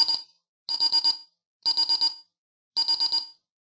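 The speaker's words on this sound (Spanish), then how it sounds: "Ese pitito significa que son los últimos 10 segundos." Paradox alarm keypad beeping through the final ten seconds of an exit countdown: four clear bursts of rapid, high electronic beeps, each a quick series of pips, separated by short silences.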